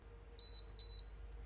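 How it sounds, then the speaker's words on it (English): A Laurastar IGGI garment steamer sounds its ready signal as two short, high electronic beeps about half a second apart. They are clear but quiet over a faint low hum. "there is also a small beep to warn people that it's ready to start"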